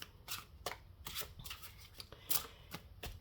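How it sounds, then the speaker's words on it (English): Stiff, large tarot cards riffle and slap together in repeated quiet shuffles, a soft papery flutter broken by sharp snaps, close up. "It's a large deck that I'm using, so it's a little bit different in the shuffling"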